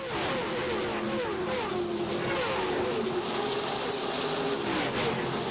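Stock race cars roar around the track at the 1999 Winn-Dixie 300, a steady dense wash of engine noise with rising and falling pitch as cars pass, loud and continuous with no talk.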